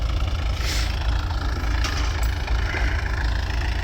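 An MTZ-80 tractor engine runs steadily on a field during corn sowing, a continuous low diesel rumble close by with light clanks over it and no speech.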